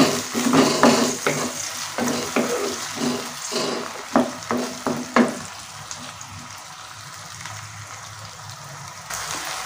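Chopped tomatoes stirred into a mushroom masala in a pan: a run of quick, close spoon scrapes and clatters over a soft sizzle, which then settles into quieter, steady frying.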